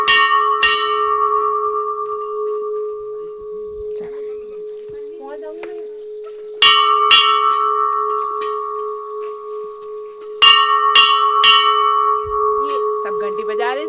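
Metal bells at a Hindu temple of Maa Bhuvaneshwari are struck repeatedly, each clang ringing out with long, steady sustain; three strong strikes stand out among lighter taps, with a voice heard faintly in the background.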